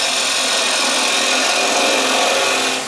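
Woodturning tool undercutting the foot of a wooden bowl on a lathe, a continuous loud hissing scrape for about three seconds that eases off at the end.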